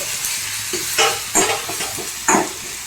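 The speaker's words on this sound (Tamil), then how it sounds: "இப்போ இதெல்லாம் நல்லா வதக்கிக்கலாம்." Vegetables for tomato rice sauté in a pan, with a steady close sizzle broken by several sharp stirring scrapes of a spoon against the metal, and no voices.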